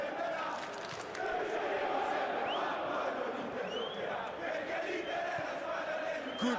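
A stadium crowd in the PES 21 football video game swells into cheering and chanting, a steady roar with rising whistles and calls, while a commentator talks over it.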